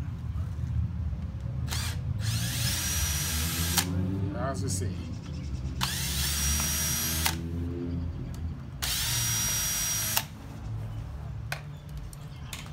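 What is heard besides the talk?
power drill drilling out screws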